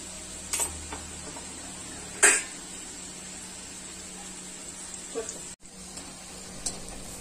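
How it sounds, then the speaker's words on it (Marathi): Khari puri, a salty Diwali snack, frying in hot oil over a medium flame, with a faint steady bubbling sizzle and a few scattered light clicks and taps, one louder knock near the middle. "एका बाजूने तळून झाल्यावरती ही पुरी परतून दुसऱ्या बाजूनेही तळून घ्यायची आहे"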